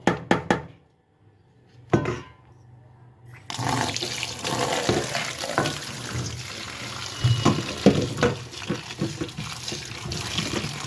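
Bathua greens washed in a sink under a running tap, a few short splashes first, then a steady, close rush of water with sloshing and handling noises, no talk.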